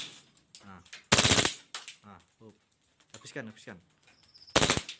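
A Glock 18 automatic pistol fires in two loud full-auto bursts, each a rapid crackling string of shots lasting under a second, with someone talking briefly between them.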